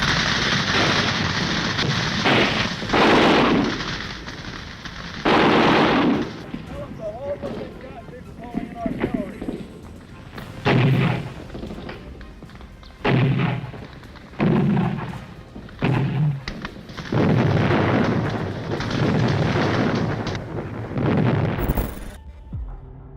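Heavy gunfire and loud blasts from a Vietnam War ambush on American vehicles along a road, with bursts of shots and booms recurring irregularly, mixed with a narrating voice.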